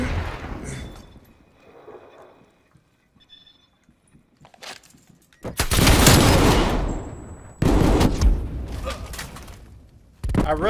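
Bursts of gunfire in a Call of Duty match: scattered quieter shots early on, then loud, dense volleys in quick succession that come back in heavy repeated bursts toward the end.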